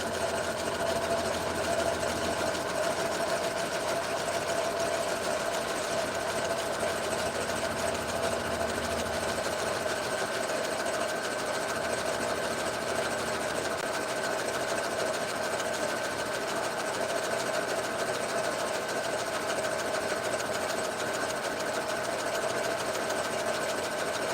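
A sewing machine runs steadily through the final stitch around the outside of a sewn purse, a continuous close mechanical whir with an even hum that holds at a constant level the whole time, with no talking.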